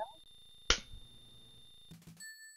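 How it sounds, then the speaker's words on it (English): A single sharp hand clap, close and isolated against a quiet background with faint tonal game music. "one singular clap."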